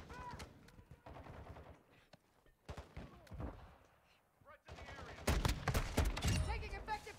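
Gunfire in Modern Warfare 2 crackles through several sharp shots and rapid bursts, building to heavy, loud firing near the end, mixed with game voice chatter.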